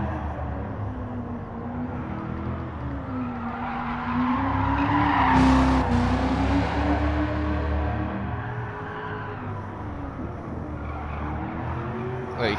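Tires of a Shelby Cobra 427 squeal in a long continuous skid on the Nürburgring in a racing game, the screech rising to a peak midway over a steady engine drone and then easing off.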